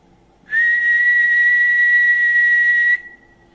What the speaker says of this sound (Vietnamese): Sau đó rồi thì tôi huýt sáo một nốt cao.